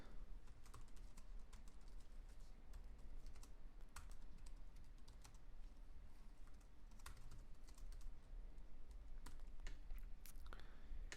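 Steady typing on a computer keyboard while composing ad text, a fast, continuous patter of quiet, close key clicks with occasional sharper strokes and no talking.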